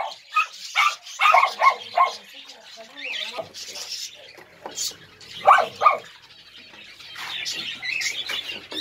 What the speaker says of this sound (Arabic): الكلب ده عايز يلعب معاه.